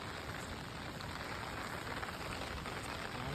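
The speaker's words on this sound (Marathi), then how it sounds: "पाऊस खूप जास्तच पडला आहे" Heavy monsoon rain pouring down in the Konkan countryside during traditional fishing: a dense, steady roar of rainfall hitting surfaces, constant and enveloping, with no voices.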